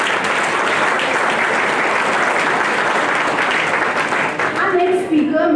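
An audience at an HR conclave breaks into loud, sustained applause, a dense wash of clapping that fills the hall, with voices faintly audible near the end.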